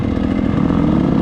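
A dirt bike engine drones steadily at low throttle on a slippery mountain trail, a close, continuous buzzing rumble with no pauses.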